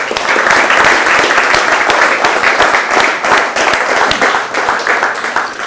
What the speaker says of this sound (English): Let's give everybody in the Miller Felpax team all over the world a great big round of applause.